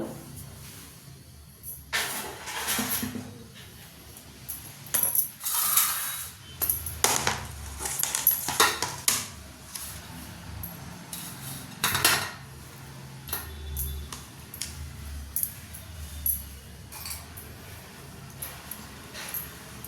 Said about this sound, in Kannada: ನೆಕ್ಸ್ಟು ಅದನ್ನು ನೀಟಾಗಿ ಕಟ್ ಮಾಡ್ಕೊಳ್ಳೋದು.